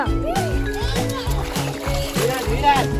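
Children splash water in a village swimming pool in the Konkan, with repeated splashes sounding under near, continuous children's voices and chatter.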